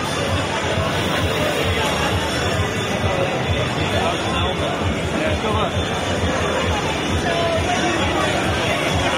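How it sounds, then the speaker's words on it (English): A big crowd gathers around taking photos, a steady, dense hubbub of many overlapping voices and chatter holding at an even level throughout. "here's a big crowd of people all gathered around taking photos"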